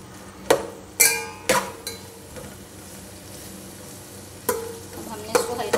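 Onions sizzle in hot oil in a preheated pot for a beef yakhni pulao, a steady fry broken by several sharp metal clinks of a spoon stirring against the pot.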